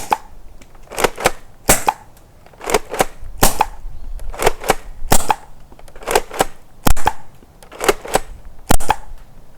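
A modified Nerf Mega SpeXL blaster running high-pressure air fires a string of sharp, snappy shots downrange at 50 feet, loud and close, in irregular bursts with short pauses between them.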